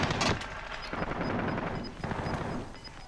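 Gunfire in Call of Duty: Modern Warfare, a sharp loud burst at the start followed by dense, continuous battle noise with repeated shot-like hits and a steady high electronic tone running through.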